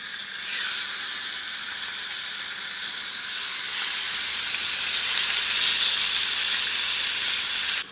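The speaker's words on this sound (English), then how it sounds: "while the chicken is sizzling away" Chicken frying in oil in a pan, a steady broadband sizzle that starts abruptly, holds loud and continuous, swells slightly midway, then cuts off.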